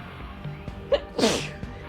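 A single sharp sneeze bursts out close and loud, with a short breathy intake just before it, in an otherwise quiet setting.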